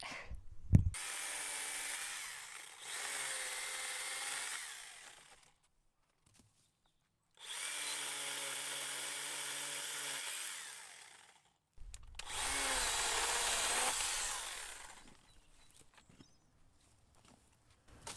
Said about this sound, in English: I'm just cutting the pieces so I can use it as firewood